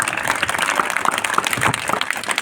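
A crowd at a village gathering claps steadily in a brief, dense burst of applause with no pause.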